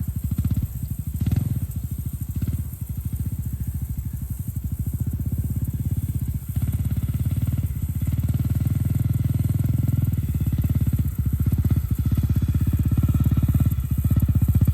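A Honda CRF250L dual-sport motorcycle ridden by a beginner on a field track, heard from a distance as a steady low engine drone that rises and dips with the throttle throughout, no voices.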